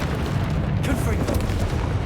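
Confringo blasting spell from a Hogwarts-style video game, a dense rumbling boom that fills the whole two seconds with steady, heavy low-end roar and crackle, loud and close.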